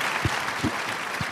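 Crowd applause at a Reform Judaism gathering: continuous hall-filling clapping with a few low thumps, heard from a distance, brief and steady.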